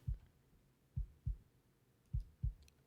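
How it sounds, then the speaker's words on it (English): The Tin Man's heartbeat played within a music track, low muffled thumps in close pairs, spaced about a second apart, with nothing else around them. "There's the Tin Man's heartbeat."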